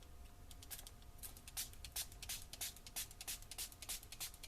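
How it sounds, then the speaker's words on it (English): Short bursts of metallic aerosol spray paint hiss onto a mixed media canvas in quick, uneven succession, fairly faint and close, with no voices. "So I am going to spray this."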